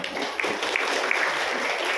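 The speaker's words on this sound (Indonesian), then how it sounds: "Tepuk tangan dulu." Audience applause at a women's Christmas church service, a steady wash of clapping lasting about two seconds with a few sharper claps standing out, moderately loud and continuous.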